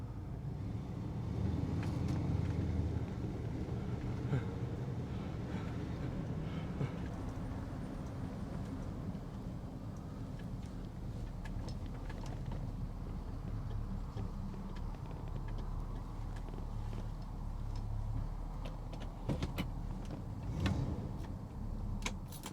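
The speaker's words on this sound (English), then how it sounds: "Listen to that motor" A stock 1963 Buick Riviera cruises on the road, its engine producing a steady, moderately loud low rumble throughout, mixed with road and wind noise and a few brief knocks.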